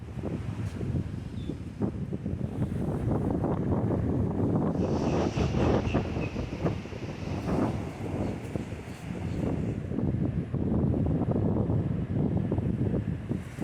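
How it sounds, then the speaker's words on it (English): Strong beach wind buffets the microphone in heavy, rumbling gusts as rain begins, with a faint surf-like wash underneath and no voices. "It's pretty windy out there and it's starting to rain."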